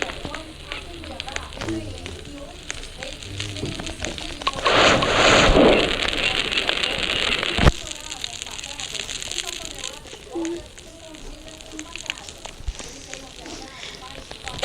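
A campfire burns in the game 99 Nights in the Forest, a soft crackle and hiss that swells into a louder roaring burst midway, under ongoing talk.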